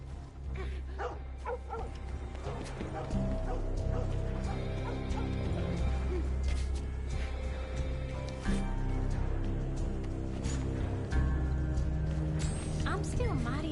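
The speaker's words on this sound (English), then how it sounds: "Hey, a dog again." A dog barking in the video game Red Dead Redemption 2 Online, set on the southwestern frontier, with repeated yips and barks over game music and ambience and someone talking.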